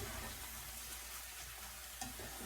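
Onion and bacon being stirred into riced cauliflower in a frying pan with butter and olive oil, a steady close sizzle with soft scraping of the spoon throughout.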